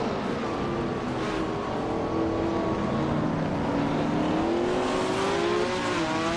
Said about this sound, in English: Lian Yashin has shot off the line to take the lead